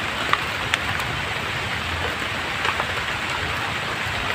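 Steady rain falls on a forest, a continuous dense hiss of drops hitting leaves and ground, close and even, with a few sharper drips standing out and no voices.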